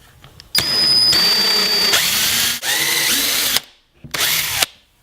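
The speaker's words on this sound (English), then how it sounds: "I'm using a special drill bit to make my holes." A power drill with a countersink bit whirs in several bursts, revving up and winding down as it bores pilot holes into wood, loud and close with short pauses between.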